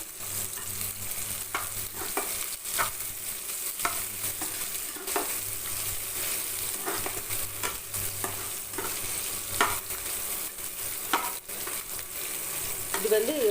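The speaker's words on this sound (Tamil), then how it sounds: "இதை தனியாக பொறிச்சு எடுத்து வச்சுக்கலாம்" Dried fish fries in hot oil with a constant dense sizzle, overlaid by frequent irregular scrapes and clinks of stirring throughout, close and steady with no voice.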